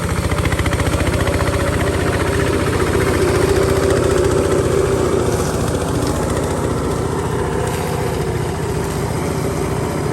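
A diesel 4x4 ride-on lawn mower rated at 15.5 horsepower runs steadily up close, its loud, even engine throb and vibration continuous with no pauses or voices.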